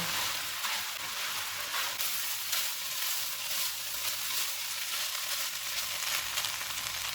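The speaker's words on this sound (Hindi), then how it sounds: "500 ग्राम आलू डालेंगे। आलू को मैंने उबाल के मैश कर लिया है। इनको 2 मिनट तक भूनेंगे।" Boiled, mashed potatoes fry in a pan with a continuous, moderate sizzle and faint stirring scrapes, steady throughout with no talking.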